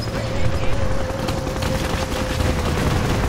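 Rapid continuous Gatling cannon fire in a real-time strategy game roars at a steady level, a dense rattling barrage with a faint sustained tone running underneath, like an arcade-style weapon.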